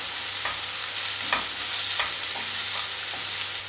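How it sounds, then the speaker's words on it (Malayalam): Potato masala curry base with green chilies and curry leaves sizzles steadily in a pan, with a few soft stirring scrapes and clinks at irregular intervals, close and moderately loud, with no talking. "വീണ്ടും ഇതെല്ലാം കൂടെ നന്നായിട്ട് വഴറ്റിയെടുക്കുക."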